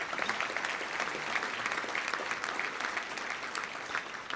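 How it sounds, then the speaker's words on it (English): Steady, close applause from a touchdown club luncheon crowd in Little Rock, a dense clapping texture that holds evenly for a few seconds with no talk over it. "Let's give a big round of applause to them."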